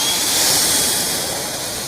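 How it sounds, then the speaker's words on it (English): A pressure washer sprays a ceramic-coated car with a loud, steady rushing hiss that runs unbroken and close throughout. "this is my first time actually whipping out the pressure washer."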